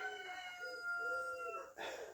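A cockerel crows in a long drawn-out call, fairly close and clear, followed by a brief rustle at the end.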